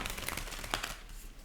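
Tarot cards are shuffled close by in a brief flurry of soft papery slides and flicks, fairly faint and fading toward the end.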